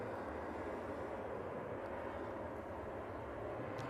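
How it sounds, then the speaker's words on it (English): An EasyJet airliner arriving at Manchester Airport produces a steady, broad roar that holds evenly throughout, close and fairly loud with no voices. "EasyJet arrival"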